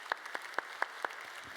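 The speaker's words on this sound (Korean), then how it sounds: "우리 박수로 청하겠습니다." Brief applause from a church congregation during a Sunday worship service, just after a closing prayer; five or six sparse, separate claps spaced about a quarter second apart, faint and thin, fading out by the end.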